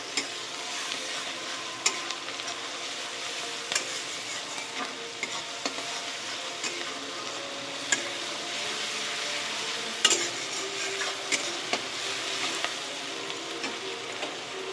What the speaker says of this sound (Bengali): এর মধ্যে দিয়ে দেবো এবার রসুন বাটা। একটু ভালো করে ভেজে নেব যাতে গন্ধটা চলে যায়।